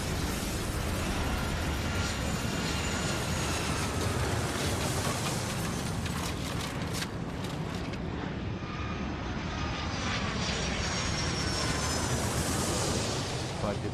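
Airplane taking off in the air traffic control game Airport Madness 3, a loud continuous jet engine roar that swells and rises in pitch over its length, with no voices.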